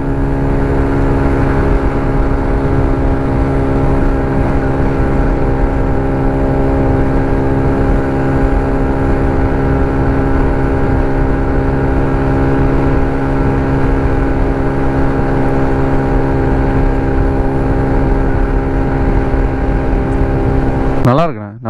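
A TVS XL100 moped engine drones while riding at about 60 km/h, a loud steady buzzing hum with rushing wind that holds constant for about twenty seconds before cutting off abruptly.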